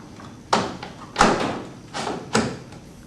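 The dispenser drawer of a front-load washer is slid back into place: four short plastic knocks and thuds spread over about three seconds, close and fairly loud, with no talking.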